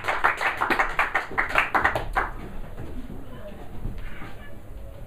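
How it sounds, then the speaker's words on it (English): A small comedy club audience in a London pub claps for a stand-up comedian, with a short run of close, sparse, distinct hand claps that fades quickly into murmuring and background sound. "keep the applause going for the one"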